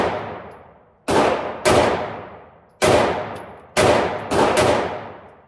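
Micro Dagger Extreme Carry pistol firing SIG jacketed hollow point rounds, five sharp gunshots at uneven intervals, each loud crack followed by a long ringing decay outdoors.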